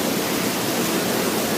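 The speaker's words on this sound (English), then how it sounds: "We're out here at the waterfall." Waterfall at Silver Dollar City theme park, a loud steady broadband rush of falling water filling the whole moment with no break or other sound.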